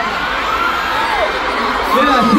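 A large crowd of concert fans in Manila cheers loudly and continuously, with high shrieks and whoops filling the space and swelling near the end.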